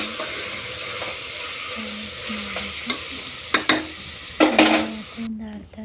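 A utensil stirring chicken curry masala frying in a pan, with steady sizzling and repeated scraping and clinks against the pan, a few louder knocks near the end, and faint voice-like tones at times.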